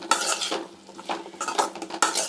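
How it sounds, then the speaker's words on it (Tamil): Yam pieces sauté with tomato, onion and garlic in a pan, a spatula scraping and stirring in quick repeated strokes over a light sizzle, close and clear. "இப்போ இது நல்லா நம்ம வதக்கிட்டுக்கலாம்"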